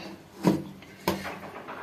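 A lid is set onto a cooking vessel holding rice flour dampened for pittu, two short, close knocks about half a second apart, with a quiet room behind.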